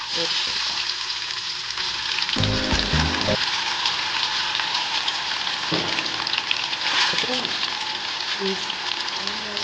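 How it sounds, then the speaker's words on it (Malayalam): Quail frying one by one in coconut oil in an iron wok, a loud, steady broadband sizzle throughout, with a short burst of clattering stirring partway through and a few brief bumps. "ഒരു ഇരുമ്പ് ചീനച്ചട്ടിയിൽ കുറച്ച് വെളിച്ചെണ്ണ ഒഴിച്ച് ഓരോ കാടയായി"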